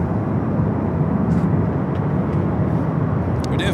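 A Lufthansa Boeing 747 arrives at Los Angeles International Airport, a loud, steady jet roar that stays constant and close throughout.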